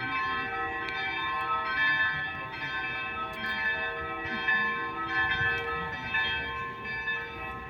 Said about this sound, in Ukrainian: Неділя б'ють дзвони.